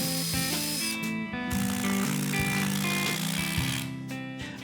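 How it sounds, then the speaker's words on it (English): A router guided along a straight edge cuts a slot for a miter track, a loud, steady high-pitched whine with a harsh cutting roar throughout, dipping briefly near the middle and end. "we'll use our router and a straight edge to hog it out"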